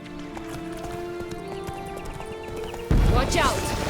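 Hooves of the horse Roach clip-clopping in the game Witcher Blood and Wine, a steady trotting rhythm with a steady tone and a sudden louder burst of action near the end.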